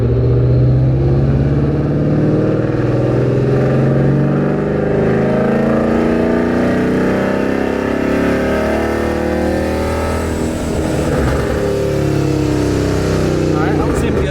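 A Paxton-supercharged Ford Mustang pulling through second gear in a gradual climb toward 5,000 rpm, a loud close engine drone rising steadily in pitch from inside the car, with someone talking over it.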